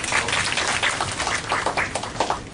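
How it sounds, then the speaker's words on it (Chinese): An audience applauds at a green energy workshop on citizen power plants, a dense patter of clapping that swells and pulses for a couple of seconds. "我们热烈掌声"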